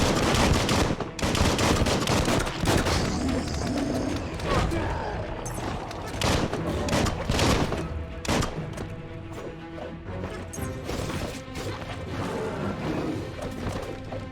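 Gunfire from a ranged weapon in the video game Biomutant, with dense bursts of shots and crashing impacts through most of the stretch over game sound, loud and continuous with short gaps.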